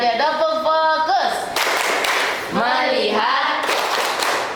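A classroom of students does a rhythmic clapping chant, with sung voices alternating with bursts of sharp group claps in quick patterned sequences, fairly close and loud.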